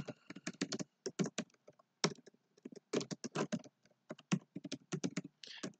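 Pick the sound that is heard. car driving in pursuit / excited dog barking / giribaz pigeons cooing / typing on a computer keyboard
typing on a computer keyboard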